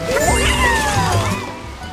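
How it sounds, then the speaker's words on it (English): Waterfall water at the base of a falls in the Yoshi video game, a full rushing, sloshing wash with playful sliding musical tones over it, loud and steady throughout. "we find ourselves at the base of a waterfall"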